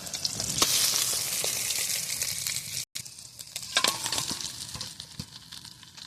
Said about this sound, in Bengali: মাছ ভাজা নামিয়ে নেব।